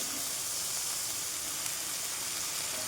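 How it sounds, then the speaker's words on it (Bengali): Prawns fry in a hot pan with a steady, close hiss and sizzle that runs evenly throughout, with no voices. "এই যে চিংড়ি মাছগুলোকে ভেজে নিচ্ছি"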